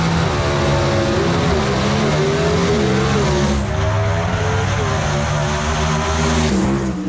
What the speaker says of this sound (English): This ought to be one heck of a drag race.